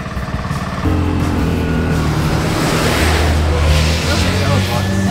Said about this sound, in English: Lloyd's having some tuk-tuk problems here. Doesn't seem to want to get going today.